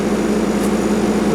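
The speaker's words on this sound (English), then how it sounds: "I don't know if the fan's on the way out, or it might just be the noise where it's pulling the air through the movers" The fan of a Fabdec milk cooling tank runs with an odd noise as it pulls air through, giving a loud, steady whirring hum with a low drone, close by and uninterrupted.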